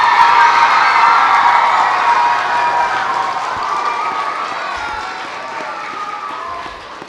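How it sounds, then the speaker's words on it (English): A crowd of students applauds and cheers for their teachers at a school event, loud, dense clapping with shouts and whoops that slowly tapers over several seconds. "Give them a round of applause."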